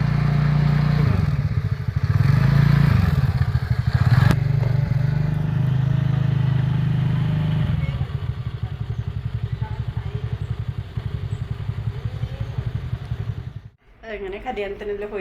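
A scooter ridden by a learner, its small engine idling and revving close by with clattering, then settling into a lower steady putter; people talk nearby.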